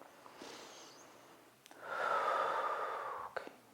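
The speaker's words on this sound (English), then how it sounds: "Inhales and exhales." Breathing during a vinyasa yoga flow: a soft inhale followed by a longer, louder exhale, close and steady, with no talking.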